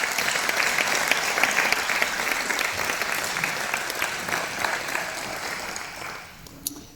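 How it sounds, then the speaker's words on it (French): An audience at a New Year's greetings ceremony gives sustained clapping, dense and fairly loud at first, then thinning and fading out near the end. "Vous pouvez d'ailleurs applaudir toutes ces personnes."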